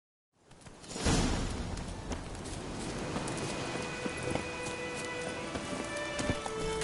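A horse gallops in The Witcher 3, its hoofbeats starting after a brief silence and settling into a fast, steady clip-clop rhythm close by, with a light whoosh of motion and faint game ambience underneath.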